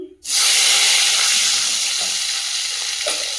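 Raw garlic hits hot oil in a wok and bursts into a loud, steady sizzling hiss that holds for a few seconds, with faint clinks near the end.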